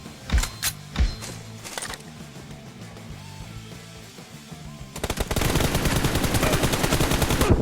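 M416 assault rifle fire in a PUBG Mobile one-on-one team deathmatch: a few sharp, loud single shots early on, then from about five seconds a dense, sustained burst of rapid automatic fire, with no talking.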